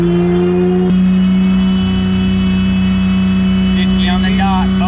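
A V6-swapped Acura Integra runs on a dyno. Its engine holds a loud, steady mid-pitched drone that shifts up in speed partway through, with a voice briefly heard near the end.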